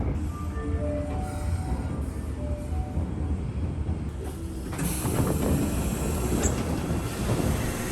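A Kintetsu electric train runs on rails past a depot after leaving a tunnel. Its wheels give a steady rumble and faint squeal from inside the car, which grow louder and brighter partway through.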